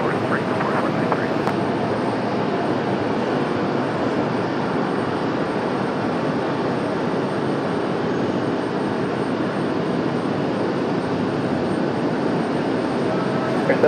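An airliner departing Raleigh-Durham International Airport, a steady loud roar of jet engines filling the whole stretch without a break.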